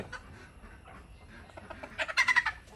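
Native country hens cluck a few times, a short burst of rising calls near the end over a quiet yard background.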